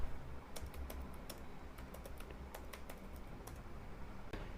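Someone types on a computer keyboard into a browser, a quick run of close, crisp key clicks with short pauses over a low background hiss.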